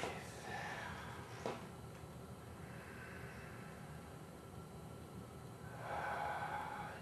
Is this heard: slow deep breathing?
yes